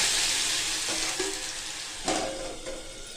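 Spice paste frying in a pan, a continuous bright hiss with a burst of louder sizzle and a scrape or clatter partway through, close by and without talk.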